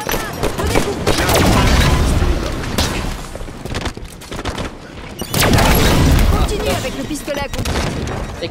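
Bursts of gunfire and booming shots from the Halo 5 shooter game, loud and dense in two heavy waves with a lull between, while players talk over the action.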